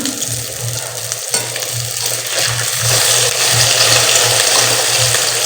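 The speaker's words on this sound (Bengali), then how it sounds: "তার আগে আমি একদম কড়কড়া করে টেস্টি টেস্টি করে বেগুনের বড়াগুলো ভেজে নিই" Brinjal (eggplant) fritters deep-frying in hot oil, a dense, steady crackling sizzle that stays loud and close throughout, with a low periodic bubbling pulse underneath and no voices.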